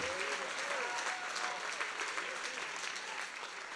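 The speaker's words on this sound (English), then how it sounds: "At least someone clap." A church congregation applauds in a steady, fairly soft wash of many hands clapping, with a few cheers and voices rising briefly at the start.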